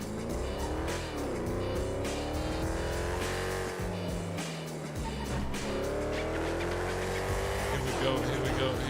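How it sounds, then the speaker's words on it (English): A V8 Sultan car in GTA revs hard through rising and falling engine sweeps, with tire squeals and a brief dip mid-way, loud and close while a voice talks underneath. "I don't think the V8 Sultan is this loud."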